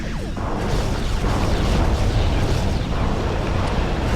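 A helpless freighter blown apart in the Klingon Academy space combat game, a loud, continuous rumbling explosion roar that swells and sustains for several seconds without speech.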